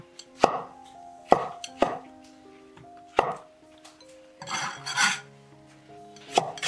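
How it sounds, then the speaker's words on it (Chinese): Shiitake mushrooms are cut into small pieces on a board: about six sharp, separate knife knocks, with a brief scraping rub in between, close and clear in a quiet kitchen. "香菇切成小块，装盘备用。"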